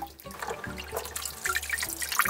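Water drips and trickles close by as blanched amaranth greens are squeezed by hand in a kitchen, with short splashy bursts and no talk.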